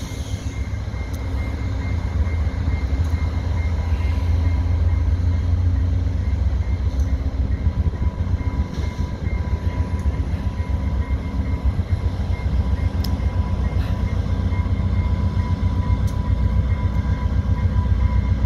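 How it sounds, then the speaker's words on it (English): VIA Rail train 645, westbound, pulls away from Fallowfield station on a cold day, its steady low rumble and rolling wheel noise filling the scene continuously and loudly, with no voices. "All right, train's departing."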